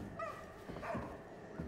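A dog in the video game Somerville gives a few soft, short yips and barks, faint and set back in a quiet game background.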